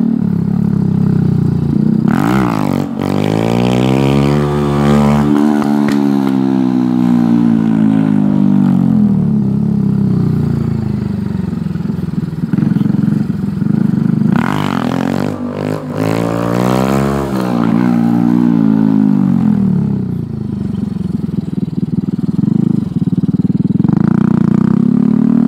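A Grom motorcycle engine revs hard in an alley during wheelies, loud and close, with two long rising-and-falling rev sweeps and steady running between them.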